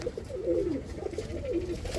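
Domestic pigeons from a home loft coo repeatedly in low, warbling phrases that rise and fall, close by and steady, with no talking.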